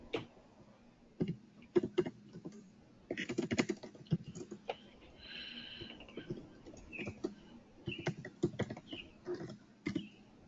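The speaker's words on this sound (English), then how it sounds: "I'm just typing in some answers here" Quiet, close clicking of fingers typing on a computer keyboard, irregular bursts of keystrokes with brief pauses between them.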